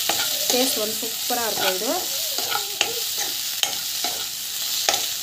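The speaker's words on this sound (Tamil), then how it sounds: "நல்லா வந்து இது வதக்கிட்டுக்கோங்க" Masala with chili powder and turmeric is sautéed in a pan, with a soft sizzle and repeated sharp stirring clacks and scrapes at an uneven rhythm under a woman's speech.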